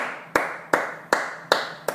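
Five slow, evenly spaced claps ring out one at a time in a quiet room, each sharp hit fading before the next, meant as applause for students after a Korean language lesson.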